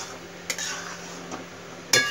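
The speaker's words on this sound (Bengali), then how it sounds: "তাই আমি এখনও নেড়ে দিচ্ছি যাতে না তলায় ধরে যায় কোনোভাবে" Rice pulao being stirred in a pot to make fishing bait for catla, with a few soft metal clinks and scrapes of the spoon over a steady background hum.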